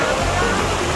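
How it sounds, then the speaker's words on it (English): Boiling geyser water at Yellowstone flows into frozen water, a dense, loud, continuous rushing hiss with no break. "I saw boiling water going into like frozen water."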